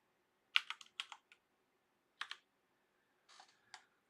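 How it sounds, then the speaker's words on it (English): Quiet keystrokes on a computer keyboard come in a few short, sparse clusters with silent gaps between them, heard close up and alone. "but I could also type it in."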